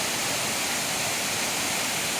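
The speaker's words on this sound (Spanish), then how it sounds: "Ahí la tenemos en su esplendor, la catarata propiamente dicha." The Xurbeo waterfall on the Río Negro roars as a constant, dense wash of falling water, loud and unbroken throughout.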